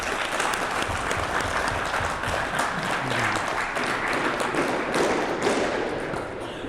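A crowd at a four-wall handball championship applauds steadily with dense, continuous clapping that holds for several seconds before easing slightly at the end.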